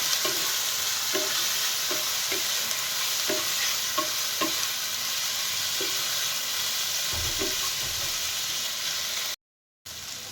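Chicken stomach and liver sautéing with spices in a hot pan: a steady bright sizzle with repeated soft scraping stirs at a regular pace. A short dropout comes near the end.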